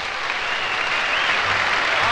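An audience at the Grand Ole Opry applauding a bluegrass band, giving a steady, dense wash of clapping heard from a distance on an older, hissy recording.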